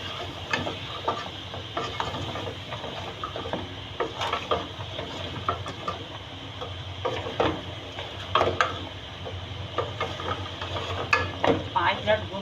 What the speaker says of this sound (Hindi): इसको हम भून लेंगे अच्छी तरह से मसाले को मिक्स करके।